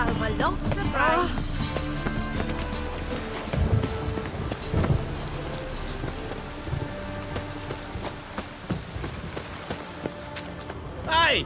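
Steady rainfall in the video game Witcher 3 patters continuously across the whole stretch, laid under background music and occasional game voices.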